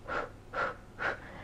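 Three slow, even breaths in and out during a Pilates abdominal workout, each a soft, airy, slightly wheezy rush, close to the mic and spaced at a steady rhythm.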